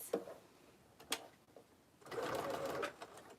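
Short bursts of a domestic sewing machine basting a belt bag, a brief run near the start and middle, then a longer steady whir of stitching, close and moderately loud.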